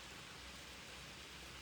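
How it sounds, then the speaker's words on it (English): Rain falling outside, heard indoors as a faint, steady hiss of broadband noise with no distinct drops or voices. "You can hear the rain."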